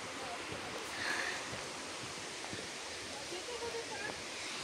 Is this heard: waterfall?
yes